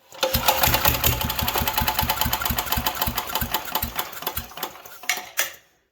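A chipper shredder left outdoors for two years runs rough on gas poured straight into the carb hole, with no carburetor or muffler fitted. Loud, close, rapid popping firing carries on for about five seconds, then sputters and dies.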